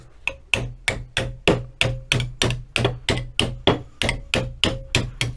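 Sharp metallic hammer strikes on a sheet metal fold held in a vise, during bodywork repairs on a 1974 MGB GT, ring out in a steady, quick rhythm, about three blows per second, close and clear.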